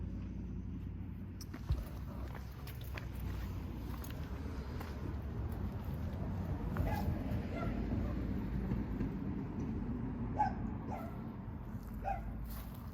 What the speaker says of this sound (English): It's my little dog Rufus.